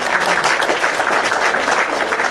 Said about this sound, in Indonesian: Betul, aduh, tepuk tangan balik.